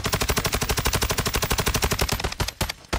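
Fast machine-gun fire in the video game Warzone 2.0, a loud steady stream of evenly spaced shots that breaks into a few scattered shots at the end.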